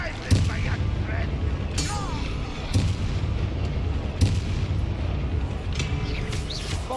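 Confringo and Bombarda spell blasts in Hogwarts Legacy, a handful of sharp booming impacts spaced a second or so apart over a rumbling battle bed, with spoken incantations mixed in.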